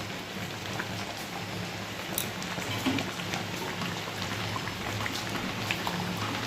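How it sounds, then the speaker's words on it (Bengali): Steady rain falls outdoors as a continuous, even patter on surfaces, moderately faint with a few louder drops standing out, and no voices over it. "দেখো আবার বৃষ্টি শুরু হয়ে গেছে, ঠিক আছে? এখন বৃষ্টি পড়ছে।"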